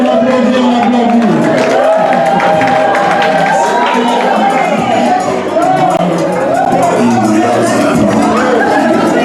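Wedding guests cheer and clap as a loud, dense crowd roar that holds steady throughout, with shouting voices layered over the din.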